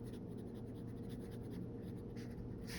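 A Twsbi Eco fountain pen with a fine stainless steel nib scratching across paper, a soft steady scritching of strokes, close and quiet over a low background hum.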